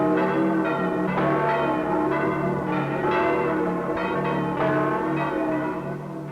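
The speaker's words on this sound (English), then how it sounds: "The bell that tolls for Easter morning also tolls for death." A church bell tolls slowly and repeatedly, with evenly spaced rich ringing strikes whose long humming resonance carries on between them, loud and alone without any voices.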